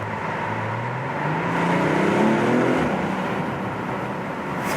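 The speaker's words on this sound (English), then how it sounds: "blop, blop, blop from the exhaust" An Audi RS5 Sportback engine pulls hard while driving, rising and falling in pitch with a throaty exhaust note, heard from inside the car without talk; individual pops are not clearly distinct.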